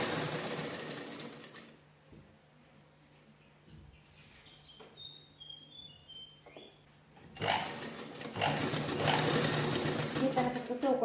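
A sewing machine stitches a small design at a round blouse neckline, its fast steady whirr running close at the start and again near the end, with a quieter stretch in between.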